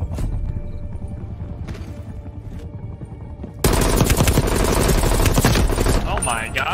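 XM4 rifle in the Call of Duty Cold War game fires a loud, dense burst of rapid gunfire that starts abruptly partway through, after a quieter stretch of game sounds.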